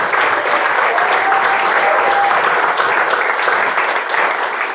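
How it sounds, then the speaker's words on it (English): An audience applauds awardees and state representatives at the 2022 Christine Bean Award presentation, a steady, dense wash of clapping that holds evenly from start to finish with no pauses. "please give our awardees and state representatives one more round of applause."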